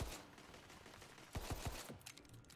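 Gunfire from the video game Tiny Tina's Wonderlands comes as a quick cluster of sharp shots near the middle, set against a faint game background.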